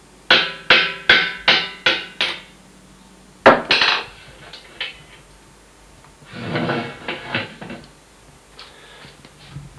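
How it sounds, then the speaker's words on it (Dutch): A small hammer taps a wind instrument's cylinder during maintenance: a quick run of six crisp, close taps, a pause, one more sharp tap, then softer scattered knocks and handling clatter. "En voorzichtig tikken met haar hamertje."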